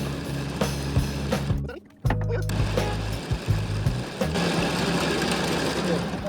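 Winch on a dune buggy project runs steadily, a loud droning mechanical whir with knocking pulses as the cable is stretched out, briefly cutting out about two seconds in before starting up again.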